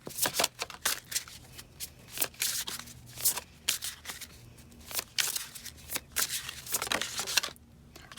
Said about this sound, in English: I'm shuffling on camera today